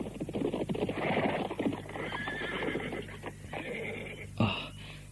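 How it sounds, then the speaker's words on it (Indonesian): Horses approaching with clip-clopping hooves and a loud whinny near the end, steady hoofbeats building over a constant background hum, no talk. "Hamba mendengar derap kuda yang mendekat."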